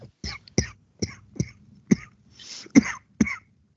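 A series of sharp, close coughs, about eight in quick succession with brief pauses between, with no talking.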